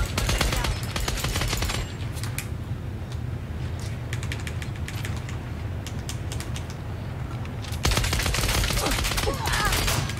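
Rapid automatic gunfire in a video game, dense bursts of crackling shots rattling almost continuously, loud and up close, with a heavier volley near the end and a voice speaking underneath.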